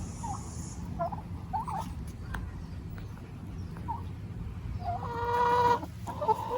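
A small backyard flock of turkeys, three males and four females, makes a series of short clucking calls near and far, ending in a louder rolling gobble-like burst.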